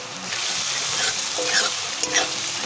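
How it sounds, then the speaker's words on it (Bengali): Mutton with chili powder and turmeric being stir-fried in a pan: a loud, close, continuous sizzle with scraping and stirring noises throughout, and no speech. "দেবো হলুদ গুঁড়ো, দিয়ে আবার একটুখানি কষে নেবো"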